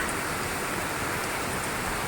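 Rain falls steadily on a garden of leafy aglaonema plants, a dense, even hiss of drops with no pauses or voices.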